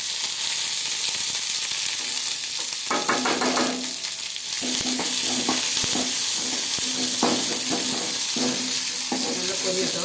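Curry leaves, small chillies and other ingredients frying in hot oil for an eggplant curry, a close, busy crackling sizzle broken by intermittent stirring clatter and scraping in the pan.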